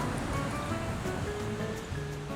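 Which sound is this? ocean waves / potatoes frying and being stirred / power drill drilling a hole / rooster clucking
ocean waves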